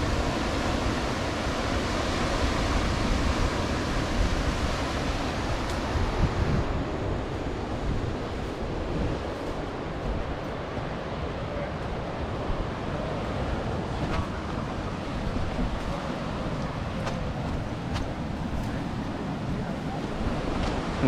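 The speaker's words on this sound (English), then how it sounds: "Nice little right-hand point break." Small ocean waves roll and break at the Praia Brava right-hand point break in Florianópolis, a continuous surf wash mixed with heavy wind buffeting on the microphone.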